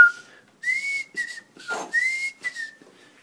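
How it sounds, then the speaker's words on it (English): A person whistles a short tune, bright wavering notes in several phrases with brief pauses between them, close and clear. "Whistling."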